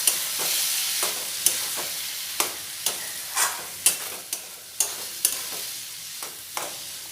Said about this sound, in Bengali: এবারে একটু নাড়াচাড়া করে মশলাটা মিশিয়ে নেব।